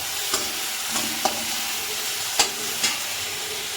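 Green chili, ginger and garlic paste frying in a pan, a steady close sizzle and hiss with several sharp stirring scrapes and clinks spaced through it, no voices.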